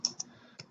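A few scattered key clicks from a computer keyboard while a personal letter is typed, three distinct taps in under a second, close and fairly quiet with no voice.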